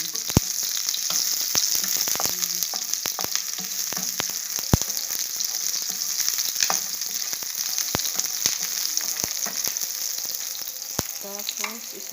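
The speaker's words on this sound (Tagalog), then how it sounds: "Gisa tayo ulit guys ng unting bawang na lang siya." Garlic and onion sauté in a pan for chicken fried rice, crackling in a steady, close sizzle punctuated by frequent sharp clicks of a spatula stirring.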